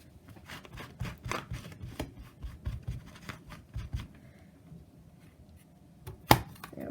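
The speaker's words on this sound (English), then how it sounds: "now what we're going to do is we're going to take and cut this little guy out" Paper card stock is cut by hand in quick, close, uneven snips and scratches, a fairly quiet run of short crisp strokes with one sharper clack near the end.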